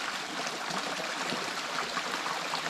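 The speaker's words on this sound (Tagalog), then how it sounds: "Ayan ang tubig sa amin" Water in a rainforest stream flows steadily and fairly quietly, a continuous broadband rush with light splashing texture and no voices.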